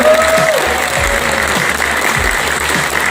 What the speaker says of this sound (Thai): ปรบมือให้พี่น้องชาวไทยนะครับ